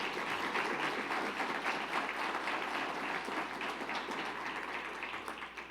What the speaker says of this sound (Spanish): Yo les voy a pedir que a esas comisiones les demos un muy fuerte aplauso por el esfuerzo.